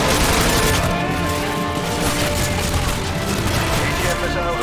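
AGM missile strike in Call of Duty: Modern Warfare 2: a dense, continuous barrage of loud explosive rumble and crashing debris, layered with gunfire-like crackle throughout, with radio voices speaking over it.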